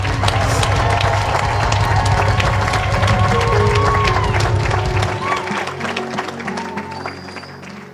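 A church congregation at a surprise birthday celebration applauding and cheering loudly, with dense clapping, shouts and music-like tones mixed in, sustained before easing somewhat toward the end.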